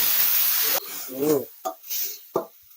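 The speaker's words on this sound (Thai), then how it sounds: "แล้วเราก็เติมน้ำซุปลงไปสักนิดครับ" Soup stock poured into a frying pan of stir-fried shredded lemongrass sets off a loud, hissing sizzle that cuts off abruptly after under a second, followed by someone talking.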